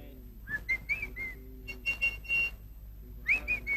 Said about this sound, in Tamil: நீங்க ஒரு தடவை விசில் அடிங்க